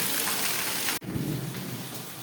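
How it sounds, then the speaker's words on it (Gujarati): Heavy morning rain pours in a dense, loud, continuous hiss that cuts out briefly for a moment and then resumes just as strong. "સવારના તો જોરદાર ચાલુ થઈ ગયો વરસાદ"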